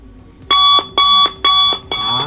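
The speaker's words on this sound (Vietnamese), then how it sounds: "Ở đây ví dụ như là âm thanh báo thức nè." Alarm clock sound effect from a royalty-free library, four loud, evenly spaced electronic beep bursts ringing out clearly with no talking.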